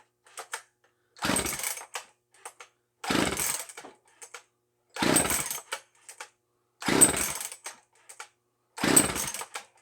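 A 60cc Poulan chainsaw engine fires in five short bursts, each revving briefly then dying, with pull-cord rattles in the quiet gaps between.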